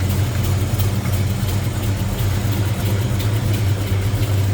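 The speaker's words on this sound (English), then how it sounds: "There it is, that 396 big block headers," The 396 big block V8 of a 1969 Chevrolet Nova, fitted with headers and HEI ignition, idles with a steady, loud, low rumble close by, no voices over it.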